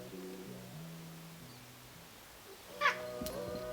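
A pet cat gives a single faint meow partway through a quiet indoor room, with a soft rustle and low background hum around it.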